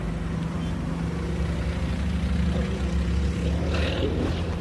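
A motorcycle engine runs steadily while pushing a broken-down rickshaw with a snapped axle from behind on a road, a continuous loud drone with traffic rumble throughout.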